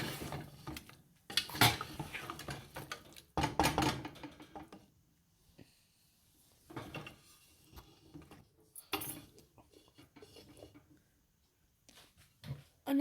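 Desi chicken being stirred with spices, tomato and chili in a pot, intermittent scraping and clattering of a utensil against metal, close and uneven, with brief pauses.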